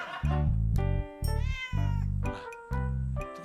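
A cat meows loudly and insistently nearby, giving four drawn-out, wavering cries with short pauses between them, alone with no talking.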